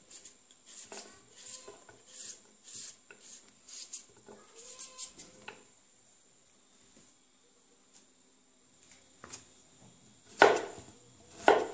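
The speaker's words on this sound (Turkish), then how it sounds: "Ardından uzun uzun doğrayalım." Knife chopping potatoes into long strips on a board, a run of quick, light, close taps with short gaps, then a few louder knocks near the end, with no talk.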